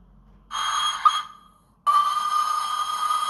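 A Hornby steam generator on a model train sounds its whistle twice, first a short toot and then a longer steady tone that keeps going, close and clear, with no talking.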